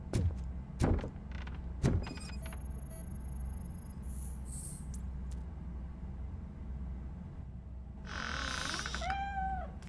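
A cat meows in the RoboCop: Rogue City video game: a drawn-out, wavering mew near the end, over a low ambient rumble, with a few thumps early and some brief electronic tones in between.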